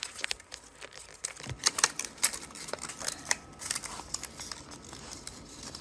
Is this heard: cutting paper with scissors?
yes